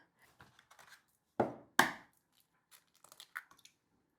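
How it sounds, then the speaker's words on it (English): A knife cuts asparagus into small rounds on a board, giving two distinct, close chopping thuds, with faint taps and handling noises around them in an otherwise quiet room. "I cut it into small little rounds, and they get mixed into the omelette mix"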